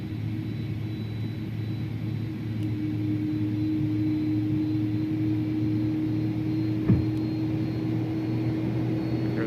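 An Airbus A310 on approach in a flight simulator, with gear down and spoilers armed, makes a steady, close airflow roar carrying a constant low engine hum, unbroken and with no voices over it.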